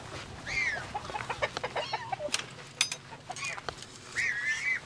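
Several small chickens cluck and cheep close by in a farm setting, with short repeated calls scattered over rustling and handling noise, and a few soft murmurs from a person in the background.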